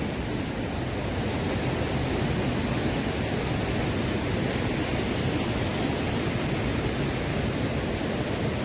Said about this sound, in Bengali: জাস্ট অসাধারণ একটা ফলস